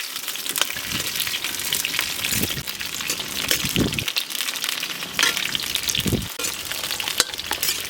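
Eggplant sautés in plenty of hot oil for a Tamil oil-eggplant kara kuzhambu, a loud, steady sizzle with repeated stirring scrapes and splashes, close by and with no voices.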